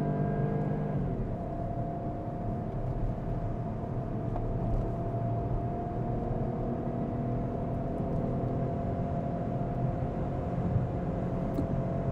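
A 2024 Opel Astra 1.2 Turbo 130 HP heard from the cabin at full throttle, a steady droning engine hum and road roar that holds evenly throughout, with no speech over it.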